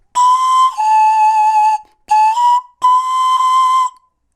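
A pan flute plays four breathy, bright, sustained tones in a short phrase, close and clear with brief gaps between notes and no voices.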